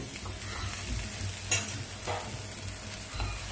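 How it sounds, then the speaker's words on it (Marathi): Masala with tomatoes and roasted coconut is stir-fried in a pan over low heat, a steady close sizzle broken by a few scraping stirs of the spoon, with no talk. "आणि आता हा मसाला चांगला परतवून घेऊया एकदा"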